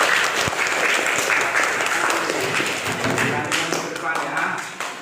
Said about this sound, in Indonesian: Ya, beri tepuk tangan untuk Ega.